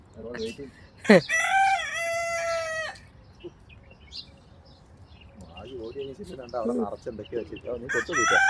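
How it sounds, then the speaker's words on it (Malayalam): A rooster crows loudly and long near the start, followed by softer clucking and chicken sounds with some voices in the background, on a foggy morning in the UAE. "രാവിലെ കോഴിയൊക്കെ ഇങ്ങനെ ഇറങ്ങി വരുന്നു."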